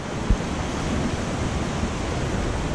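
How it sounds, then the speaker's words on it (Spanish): Floodwater from storm Fabien in Valladolid, Castilla y León, rushes past in a powerful current, making a continuous loud roaring wash with no pause and no voices. "la corriente del agua lo arrastra todo"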